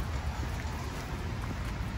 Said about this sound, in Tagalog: umuulan pa no